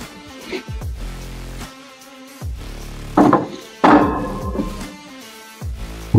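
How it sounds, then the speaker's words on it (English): Metal grates are set into a smoker pit with a few clanks and hollow thuds, some ringing briefly with a metallic tone, spaced irregularly and heard close by with no talking. "then we install the grates"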